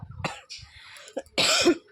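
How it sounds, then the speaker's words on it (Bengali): A woman with a lingering cough and sore throat gives several close, harsh coughs and throat-clearing bursts in quick succession. "কাশিটা এখনও যায়নি জানো তো"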